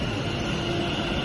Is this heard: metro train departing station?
yes